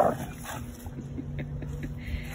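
A young foster dog recovering from parvo plays in a backyard, letting out a series of short, high yips and whimpery bursts over a low steady hum of outdoor background noise.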